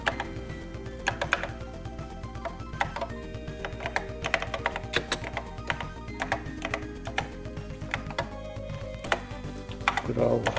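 Fast, uneven typing on the keyboard of a retro Z80A home computer running at 2 MHz, close-up clicky keystrokes in steady bursts with brief pauses, entering a short Hello World program.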